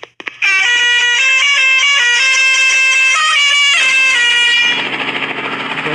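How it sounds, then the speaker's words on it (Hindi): A bus horn in the Bhai The Gangster video game plays a loud, musical multi-tone melody close up for several seconds, then gives way to a rough, fluttering engine rumble. "बस वाली ने हॉर्न भी कमाल का लगा रखा है वैसे।"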